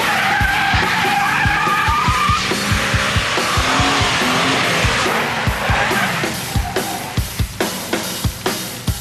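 A car skids around a skid pan with sustained tire squeal and engine roar, loud and close, interspersed with a rhythmic series of thumping knocks as it slides.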